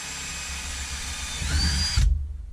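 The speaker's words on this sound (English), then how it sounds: "So it's just a 1/4 inch drill bit, and we're going to make sure we're right where we want it." A power drill fitted with a 1/4 inch bit whines steadily, grinding harder as the bit bites into the part, then stops abruptly after about two seconds; close and loud, with no talking.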